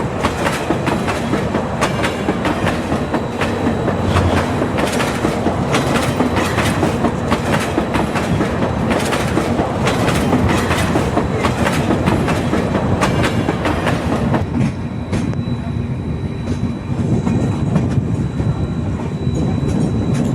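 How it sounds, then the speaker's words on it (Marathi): The Konkan Kanya Express pulls out of Sangameshwar Road station with loud, rhythmic clickety-clack from its wheels. The clatter stays dense and close for most of the stretch, then thins and softens toward the end. "मित्रांनो संगमेश्वर रोडला आता निघालेली आहे ट्रेन आपली"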